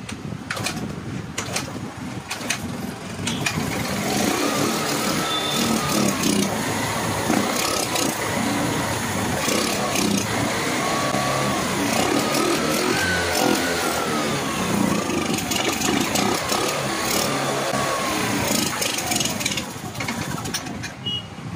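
A motorcycle engine, just after a spark plug check and a fresh petrol supply, runs with a loud, steady mid-pitched drone for the whole stretch, with no talking.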